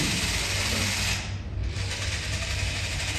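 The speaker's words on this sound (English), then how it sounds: "Here is a three-speed and reverse synchromesh gearbox." A Meccano three-speed and reverse synchromesh gearbox, battery-driven by a small motor, runs with a steady close-up mechanical whir and rattle of meshing gears, dipping briefly midway.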